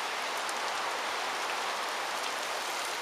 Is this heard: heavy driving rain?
yes